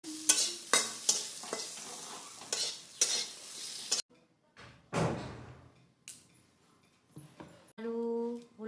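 Potatoes rubbed with turmeric and salt fry in a pan, giving a broken sizzle with repeated scraping stirs near the start. A few loud knocks and clatters follow, then a short voiced sound near the end.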